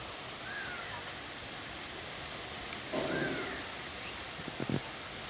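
A monsoon waterfall at Gangechiwadi near Tiware in the Konkan roars as a steady, even rush of water heard from a distance, with a brief rustle partway through.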